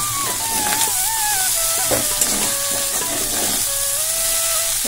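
Drained Maggi noodles hit a pan that already holds a fried egg, giving a quiet, steady sizzle and hiss with faint wavering whine tones over it.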